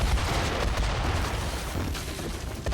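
Explosions in the video game Metaphor: ReFantazio, a dense, continuous roar of booms and crackling blasts with falling debris, loud and sustained without pause.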